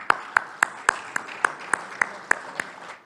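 An audience at the Lanka Premier League 2024 player auction claps in a steady, evenly spaced rhythm of crisp beats filling the hall, with no voices over it.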